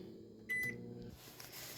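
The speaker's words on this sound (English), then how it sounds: "I'm going to toss that back in the microwave. Leave it to rotate for another 2 minutes." A microwave oven starts up with a beep and a low steady hum. A door or cupboard clunk comes briefly before the hum quiets.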